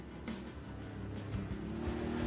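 Can-Am Outlander 570 ATV engine running steadily while riding, a continuous near motor drone with slight rises in pitch as the throttle changes, no talk.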